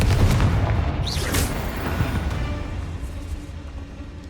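Spell explosions from Confringo and Bombarda in the video game Hogwarts Legacy: a loud, dense burst of booming blasts and crackling impacts that gradually thins out over a few seconds, with no talking.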